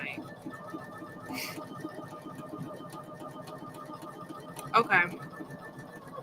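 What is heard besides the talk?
Poolin EOC06 single needle embroidery machine stitching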